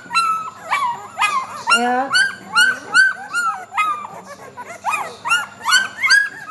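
Newborn puppies in a whelping box whimper and yip in a rapid stream of high, rising squeals, close and loud, with a brief word spoken over them.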